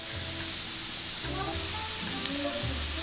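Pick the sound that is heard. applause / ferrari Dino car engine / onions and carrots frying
onions and carrots frying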